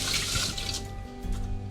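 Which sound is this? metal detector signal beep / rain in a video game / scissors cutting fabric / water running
water running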